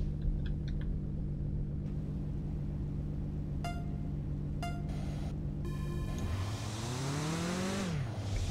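A turbocharged car with nitrous armed revs and accelerates in the driving game Mon Bazou. A steady engine drone rises in pitch near the end, with a few brief electronic beeps and no talk.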